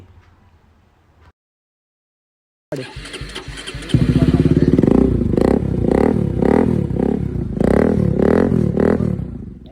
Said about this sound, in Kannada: ನೋಡಿದ್ರಲ್ಲ ಗಾಯ್ಸ್ ಯಾಕ್ರೋಪವಿಕ್ ಸೈಲೆನ್ಸರ್ ಹೆಂಗಿದೆ ಅಂತೇಳಿ ಸೌಂಡ್